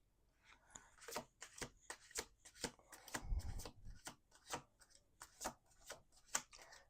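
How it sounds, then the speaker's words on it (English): A deck of cards is shuffled repeatedly at close range, giving quiet crisp riffling bursts and soft rubbing slaps in an irregular rhythm, with no one speaking. "Let's do 2 more shuffles."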